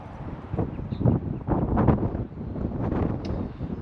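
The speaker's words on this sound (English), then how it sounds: "That wind is still humming at a solid 10 plus." Wind blows outdoors at roughly ten miles an hour during a Michigan deer hunt, a steady broadband buffeting and rumble against the microphone that holds throughout with gentle surges and no talk.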